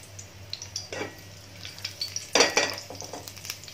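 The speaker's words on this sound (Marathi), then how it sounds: "आपलं इथे तेल छान तापलंय, कढीपत्ता घालूया" Curry leaves dropped into hot oil for tempering in a Maharashtrian amti, a sudden burst of crackling sizzle with scattered clinks of a ladle against the pan, fairly close and with no talk.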